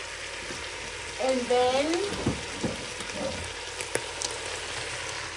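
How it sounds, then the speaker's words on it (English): Oil and onion sizzle in a cooking pot over an open fire while okra is prepared, a steady close frying hiss with a few stirring scrapes, and a voice speaks briefly. "So I'm just gonna add in our oil in the pot"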